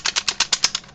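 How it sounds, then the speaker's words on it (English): Keys on a home-made cardboard arcade controller for IIDX being pressed down one after another, about nine sharp, evenly spaced plastic clicks close by with nothing else heard. "just make sure that all of your keys press down like that"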